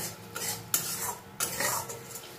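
A spoon scrapes and stirs spice paste (masala) frying in a pan for a rohu fish curry with curry leaves, giving several distinct scraping strokes over a faint sizzle.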